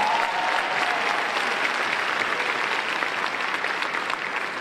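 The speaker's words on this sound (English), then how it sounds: "that in itself deserves a round of applause" Loud, sustained applause from an audience at a news program, a dense steady clatter of many hands lasting several seconds with no voice over it.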